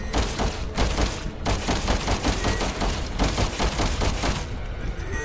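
Rapid gunfire loaded with explosive rounds in Resident Evil 6 rattles out as a loud, continuous stream of bangs with brief pauses, punchy and close throughout.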